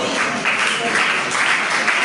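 A church congregation claps together during a Spanish-language worship service, a dense, sustained patter of applause mixed with a few voices calling out.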